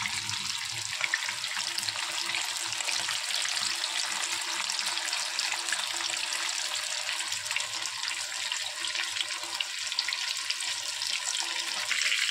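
Fish sizzles steadily in a hot frying pan in a home kitchen, a dense continuous hiss and crackle of oil with no talking.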